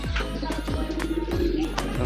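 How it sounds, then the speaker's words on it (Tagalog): Racing pigeons coo steadily at a loft as birds return from a 124 km training race from Agdangan, Quezon, with soft wing flutters and low throaty cooing close by. "3 na yung dumating ng kalapati natin."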